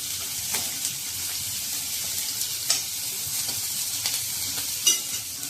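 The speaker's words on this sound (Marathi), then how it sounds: "हा कांदा घालते, लसूण घालते, हे थोडं परतून घेते" Onion and garlic sauté in a pan for chutney, giving a steady close sizzling hiss with occasional scraping stirs and small pops throughout.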